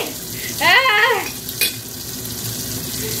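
Meat frying in a pan as it is turned, a brief burst of sizzling with scraping and a clink, then quieter background; no talk.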